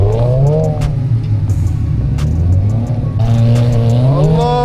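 Infiniti G37 engine revving hard while drifting in a snowstorm, repeated rising and falling revs with a deep exhaust drone, close and loud, with no talking.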